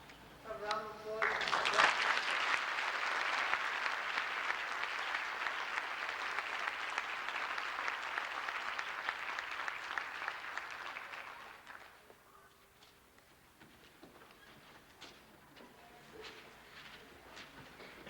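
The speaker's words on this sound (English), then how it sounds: "A round of applause." An audience at a 1992 Delaware Valley elementary school DARE graduation breaks into sustained applause, a dense wash of clapping for about ten seconds before dying away into faint murmurs and scattered rustling.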